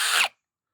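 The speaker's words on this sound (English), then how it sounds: "put the drag down, or the drag down on your power drill, or you will drive these screws straight through that plastic" A power drill drives a screw into a plastic tab while nursery benches are being built: a short, loud, close whirr that cuts off abruptly into silence.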